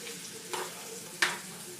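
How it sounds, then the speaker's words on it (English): Food frying in a pan while being stirred, a steady low sizzle with two brief scraping clatters of the utensil, fairly close, with no speech. "Come and stir this bitch up real quick."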